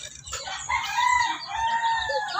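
A Labuyo jungle fowl rooster crows up close in a long harsh call, with some clucking and other fowl sounds and no talk.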